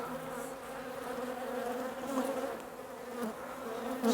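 Returning honey bees fly around a nuc box during a colony split, a dense, steady droning buzz close by with tones rising and falling as individual bees pass near, and no voices.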